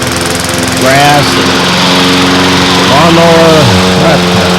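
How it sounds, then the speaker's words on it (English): A lawn mower runs loudly and steadily throughout, its engine hum shifting in pitch a few times, with a voice speaking over it. "maybe I'll think of something while I'm mowing the lawn"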